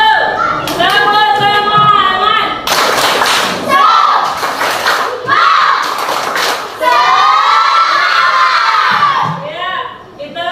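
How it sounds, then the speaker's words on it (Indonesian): A class of students performs a rhythmic spirit clap (tepuk semangat) in a classroom: loud, close group clapping and thumping mixed with children's shouted chanting voices over about ten seconds. "Kayaknya tidak semangat ya, kita tepuk semangat dulu."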